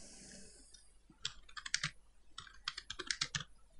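Keys clatter on a computer keyboard in quick, uneven bursts of typing, close and fairly quiet, with short pauses between runs and no voices.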